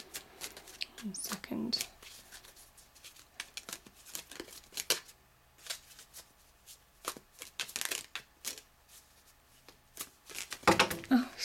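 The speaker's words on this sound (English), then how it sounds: "I'm just pulling the cards for you. Oh, they're so lively today." Tarot cards are shuffled and riffled in quick papery flurries close to the microphone, with soft taps and slaps between bursts, while someone talks quietly over parts of it.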